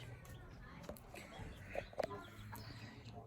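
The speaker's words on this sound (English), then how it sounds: "Chickies going down night." Backyard homestead chickens in California settling in for the night, giving soft scattered clucks and a couple of brief louder calls over a low steady background hum.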